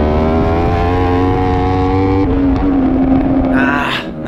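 Racing motorcycles roar at close range in a video game, a loud sustained engine whine that shifts pitch midway, with another bike passing near the end.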